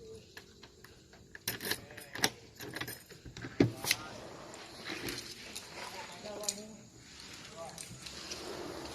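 A key turns in the multi-point lock of a UPVC sliding door, giving a few sharp metallic clicks and a light jangle, close and fairly quiet, while someone talks over it.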